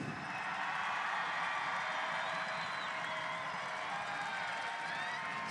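A large crowd at the indoor soccer MASL Ron Newman Cup Finals between the Milwaukee Wave and San Diego Sockers cheering the player of the game, a steady, even roar of voices and applause lasting throughout.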